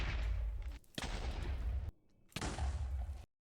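Beds exploding while mining for ancient debris in Minecraft, three loud booming blasts with rumbling decay, separated by short quiet gaps.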